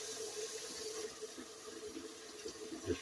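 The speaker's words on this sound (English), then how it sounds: "And now I'm going to wash it off a little bit." Tap water runs steadily over ingredients being rinsed in a kitchen sink while preparing a Chinese stir-fry with shrimp, pork and chicken, a continuous soft splashing flow with small bumps and no talking.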